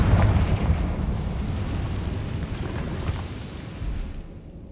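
Confringo fire blast spell exploding in the Hogwarts Legacy video game: a loud, booming burst opens, then rumbles on as a sustained crackling roar that slowly fades, with no voices.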